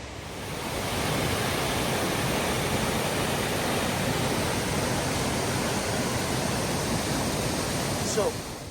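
Brandywine Falls in Cuyahoga Valley National Park, a broad continuous rush of falling water that stays steady and loud throughout, with a brief faint voice near the end.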